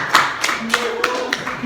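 A small classroom group gives a brief round of clapping for a student, a handful of sharp, uneven claps close by, with a voice murmuring underneath.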